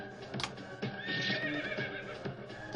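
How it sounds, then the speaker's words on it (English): A horse whinnies loudly in the video game I Wanna Make A Sandwich, a drawn-out neigh over quick clip-clop hoofbeats that run for about three seconds without talk. "And the horse is back."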